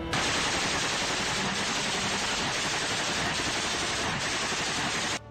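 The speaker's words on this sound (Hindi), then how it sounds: "एक लड़ाका मशीन गन से एक तरफ ताबड़तोड़ गोलियां चलाता दिखाई दिया" Rapid, continuous machine-gun fire rattles without pause for several seconds, dense and loud, ending abruptly.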